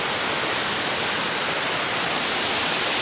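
Water flows at a stream in a continuous close hiss and rush, broadband and even, with no voices.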